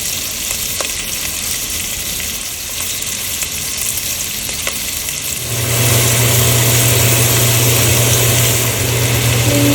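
Fatty pork belly frying in a pan for red-braised pork, a steady sizzle that swells sharply louder partway through as the pan heats up or more meat goes in, with a low hum beneath.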